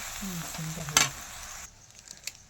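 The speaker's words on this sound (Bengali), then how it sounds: "এবার এটাকে নাড়াচাড়া করব" Gobindobhog flattened rice pulao with rose water is stirred in a pan, a soft sizzle under scraping spoon strokes, with one sharp clink of the utensil against the pan before the sound drops quieter.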